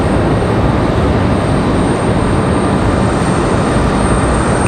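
An Air Wisconsin airliner passes at Raleigh-Durham International Airport, filling the moment with a loud, dense, constant engine rumble and rush, close and unbroken, with no talk.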